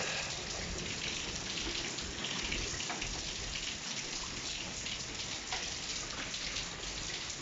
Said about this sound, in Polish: Straszny grad.